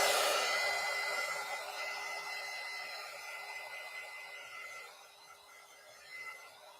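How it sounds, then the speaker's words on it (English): A steady, breathy whoosh of a heat tool blowing to dry paint, strongest at the start and easing slightly, with a constant hum underneath and no talking. "I just take my heat tool, keep it kind of far away."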